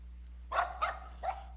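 A dog in the Boot Hill Bounties video game gives three short, close barks in a quick, uneven run over a low steady hum.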